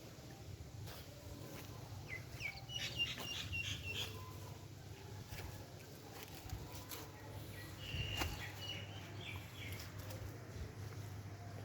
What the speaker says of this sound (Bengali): পাখির কত সুন্দর শব্দ চারিপাশ